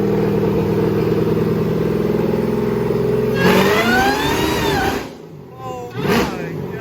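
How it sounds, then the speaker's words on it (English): A 1000-horsepower police car engine revs hard on a dyno, a steady loud idle drone climbing into a rising, roaring pull that cuts off abruptly, then a short second rev, with shouting voices over it. "It revs so much faster than it used to."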